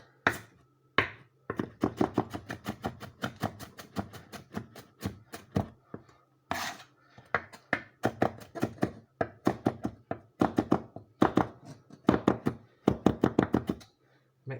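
A knife dices a red onion on a cutting board in quick, steady rhythmic chops, with brief pauses between runs of close, crisp knocks against the wood.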